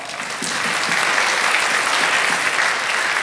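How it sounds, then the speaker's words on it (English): Loud, steady applause from the audience at a Taste of Asia performance show fills the hall without a break, a thick wash of clapping with no voices on top. "Let's give them another round of applause."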